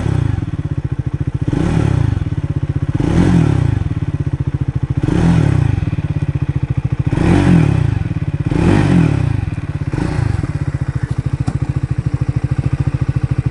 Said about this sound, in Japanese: だいぶ歯切れのいいね、単気筒シングルの音になっています。